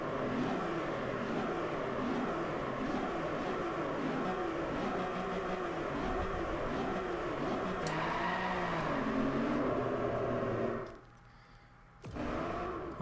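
An Aston Martin Vantage V12S races a Japan track in Driveclub, its engine droning loud and steady with rising and falling revs, then dropping briefly near the end before roaring back.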